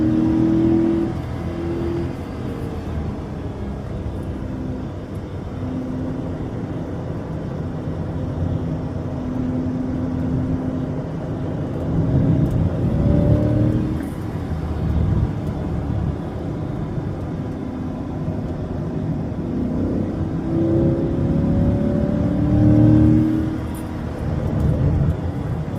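Corvette ZR1 (C8) engine note on a hot lap at a racetrack, a steady loud drone with rising and falling pitch as the car accelerates and brakes through corners, continuous throughout.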